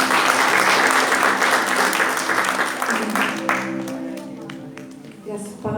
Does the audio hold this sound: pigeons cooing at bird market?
no